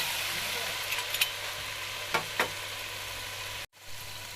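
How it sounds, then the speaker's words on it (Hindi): Chopped tomatoes fry in a hot pan for a spiced okra dish, giving a soft, steady sizzle throughout with a few faint clicks of stirring, and a brief drop near the end. "टमाटरों को थोड़ी देर भून लेंगे"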